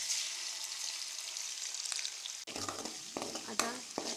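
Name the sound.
onion paste frying in a pan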